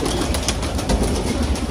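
A Kalduma pigeon coos softly beneath a steady wash of broadband background noise, with faint repeated low calls spread across the short stretch and no voices.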